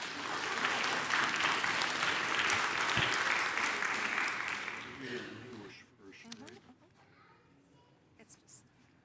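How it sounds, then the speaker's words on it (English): A synagogue congregation at a Friday evening Shabbat service claps for a 95th birthday, steady applause filling the first six seconds before thinning to scattered claps and murmuring voices. "You can give that a round of applause."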